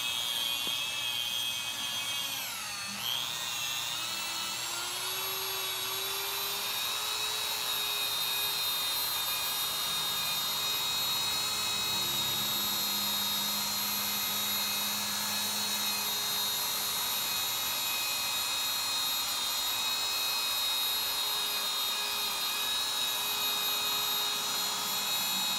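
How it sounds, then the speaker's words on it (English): Dual action polisher with a short throw working Meguiar's M110 speed compound on a car: a steady, loud whining hum holds for the whole stretch, with a brief pitch dip early on and no voices. "I don't have a ton of pressure down on the polisher."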